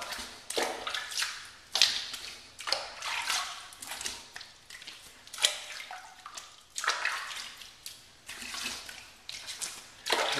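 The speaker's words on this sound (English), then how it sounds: "I rinse with hot water, then I'll turn the cold water on and give it a really good rinse" Hot then cold tap water runs in a bathroom sink while a razor and face are rinsed after a safety-razor shave, giving steady splashing surges that rise and fall with frequent short bursts, close and moderately loud, with no talking.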